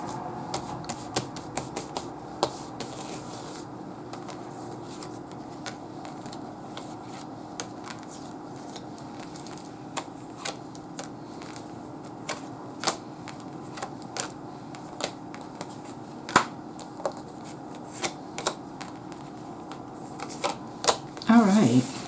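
A tarot deck is shuffled and cards are pulled. Steady papery riffling and soft rubbing carry a long run of crisp card snaps and taps.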